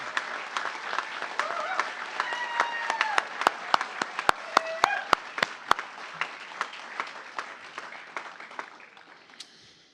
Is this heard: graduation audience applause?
yes